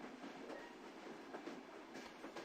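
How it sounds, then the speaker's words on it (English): A train in the Touhou LostWord video game rolls along with a soft, continuous rumble and faint rhythmic clacks, quiet and steady throughout. "I was hoping the train sounds would turn into Hiroshika"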